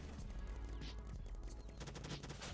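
Rapid paintball gunfire in the Roblox game BIG Paintball, a dense stream of shots with game effects underneath, no speech.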